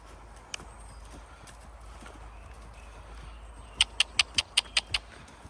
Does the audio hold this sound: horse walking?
yes